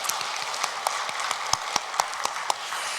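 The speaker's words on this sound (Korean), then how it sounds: "믿으신다면 다시 한 번 더 하나님께 박수로 영광을 올려드리겠습니다." A church congregation at a Sunday worship service claps in scattered, uneven bursts, with sharp individual claps standing out over a soft, hissing wash of hands.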